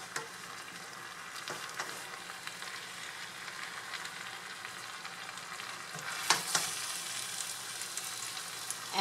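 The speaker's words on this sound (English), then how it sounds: "it's sizzling because it's actually drying up" Rice noodles with pork and vegetables sizzle quietly and steadily in a pan as the broth dries up off the heat, a soft continuous crackle with a few sharper pops near the end.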